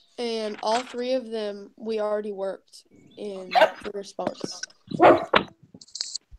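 A dog barks a few times in short, sharp bursts partway through, mixed in among several people talking during a group calculus and chemistry review session.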